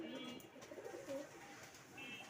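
Old Rajshahi breed pigeons cooing softly, faint low burbling calls repeating in a quiet setting.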